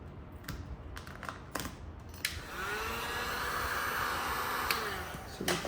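A heat gun blowing hot air onto vinyl wrap film on a Tesla rear bumper makes a steady, broad rushing hiss that swells in after a few light clicks and taps and holds close and fairly loud.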